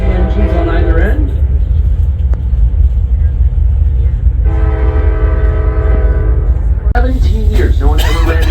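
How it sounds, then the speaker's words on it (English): The flag stop train in Talkeetna, Alaska, a pay-by-mile passenger train with baggage car and engines at either end, rumbles loudly nearby while its horn sounds a sustained tone midway; voices talk over it. "Here's the flag stop train."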